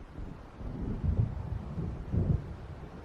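Distant rolling thunder from a storm approaching over open water in the video game Alan Wake Remastered, low rumbles that swell twice amid a windy, muffled background.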